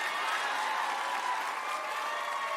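An audience in a conference session hall claps steadily, a dense, even wash of applause with scattered cheers throughout.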